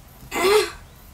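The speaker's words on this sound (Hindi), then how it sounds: "कैला खांसी छियै?" A single short, rough cough or throat-clearing, close and abrupt, rising out of a quiet background.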